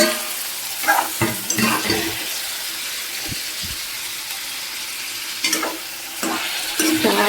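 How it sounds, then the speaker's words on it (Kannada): Tomatoes fry in hot oil in a pan while a spoon stirs them, a steady close sizzle broken by bursts of scraping and stirring, with no voices. "ಎಣ್ಣೆಲಿ ಬಂದ್ಕೊಳಕ್ಕೆ ಅದನ್ನು ಸ್ವಲ್ಪ ಹೊತ್ತು ಮಾಡಿ ಬಿಟ್ಬಿಡ್ತೀನಿ ಎಣ್ಣೆಲಿ ಚೆನ್ನಾಗಿ ಹೀರ್ಕೊಳ್ಳುತ್ತೆ"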